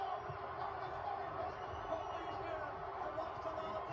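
A large arena crowd at WrestleMania 17 keeps up a steady, dense roar of booing aimed at The Rock, heard continuously under a commentator's voice.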